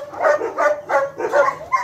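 A dog barks in a quick run of four or five close, fairly loud yelping barks in a steady rhythm, with no talk over them.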